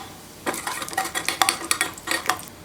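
Chopped cashews dropped into ghee in a small kadai, with a quick series of clinks and scraping taps of a spoon against the metal pan over a faint sizzle, close and fairly quiet.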